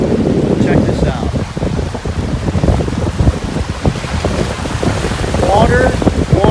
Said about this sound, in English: the waves are splashing up and it's getting wet